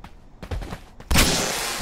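Gunshots in a video game: a short burst of shots followed by a louder, sustained blast of fire, close and harsh, with no talk over it.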